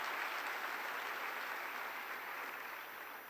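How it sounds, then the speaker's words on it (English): A seated audience at the Commonwealth Youth Forum opening ceremony in Kigali gives a steady round of applause, fairly faint and even, fading slightly toward the end with no talking over it. "Can we give a big round of applause for our distinguished panel?"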